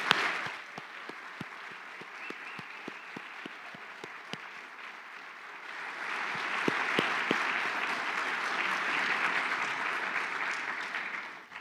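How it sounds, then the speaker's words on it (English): An auditorium audience at an awards ceremony applauds the award recipients, starting with scattered distinct claps and swelling after a few seconds into a fuller, sustained round of clapping that holds steady until it stops. "Let's give the award recipients one final round of applause."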